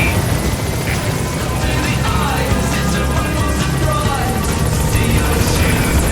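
Helicopter rotor and engine drone in Metal Gear Solid V as it arrives at a landing zone, a steady loud throbbing hum that continues through the whole stretch under radio-style talk.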